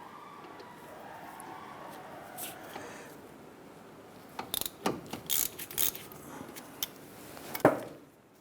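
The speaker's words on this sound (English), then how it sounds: "Let's go ahead and loosen and remove the upper bolt." Ratchet with a 12mm socket loosening the upper brake caliper bolt on a 2008-2012 Honda Accord: a run of quick, close clicking ratchet strokes in uneven bursts after a quiet stretch of faint handling noise.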